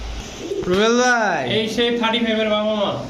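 Pigeons coo at a Bangladeshi pigeon market: one clear, close bird gives a long rising-and-falling coo followed by a couple of shorter bubbling coos, loud against a quiet background.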